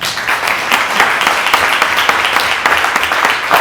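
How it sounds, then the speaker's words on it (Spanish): Sustained applause from a seminar audience, steady and fairly loud with dense overlapping claps throughout, marking the close of an academic session on gender perspective and sexual offences. "Pero podéis aplaudir"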